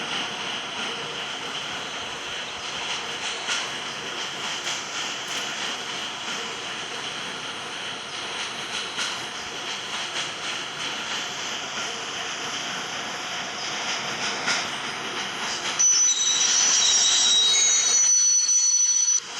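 A steady, continuous rumble of a train in a video game with a faint high whine runs throughout, then shifts to a brighter, electronic-sounding hum near the end; no talking.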